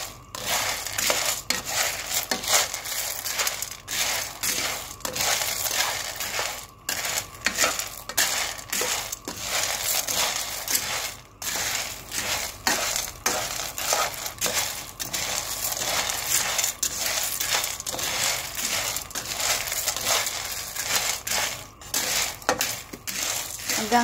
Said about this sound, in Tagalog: Ang ginagawa ko kasi, kinikirog ko rin para masarap, mabangi rin, parang peanut